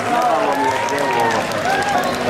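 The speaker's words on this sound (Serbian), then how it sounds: "Molim vas jedan veliki aplauz" Audience applause at an outdoor summer concert greeting a keyboard player, a steady dense wash of clapping from a crowd with voices mixed in, continuous across the whole stretch.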